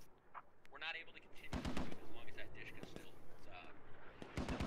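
Rifle fire at occupied buildings in the video game Squad, with bursts and single shots popping at middle distance while voices talk over them.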